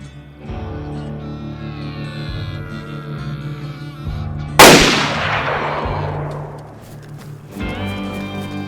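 A single loud gunshot rings out in a hunting game, sharp and close with a long decaying echo, set against a sustained humming background tone.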